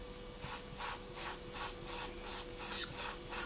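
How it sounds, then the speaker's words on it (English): A clay brush being wiped clean with a wet wipe and isopropyl alcohol, giving steady rhythmic rubbing strokes, about eight soft swishes close up with no talking. "So I'm just bringing over a wet wipe here and some isopropyl alcohol."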